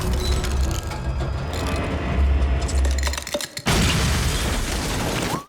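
A blast rings out in a scene from the film The Consultant, thick with low rumble, crackling bursts and mechanical clatter, then a brief silence before the loud din resumes.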